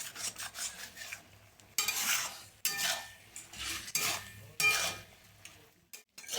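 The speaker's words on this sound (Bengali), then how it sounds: "এবার আমি মশলার সাথে কপিটা ভালো করে কষে নেব।" Cabbage being sautéed with spices in a pan for a Bengali cabbage ghonto, with repeated scraping and stirring strokes of a utensil in bursts, close and fairly quiet, with no talking.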